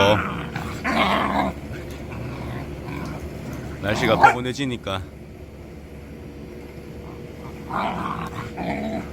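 A young Jindo dog growls and barks in short bursts at a cat at close range, with a person talking over parts of it and faint outdoor background noise.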